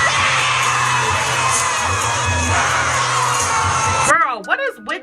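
A high school talent show audience cheers and shouts in a loud, sustained crowd roar with whoops and yells, cutting off abruptly near the end as a voice speaks alone.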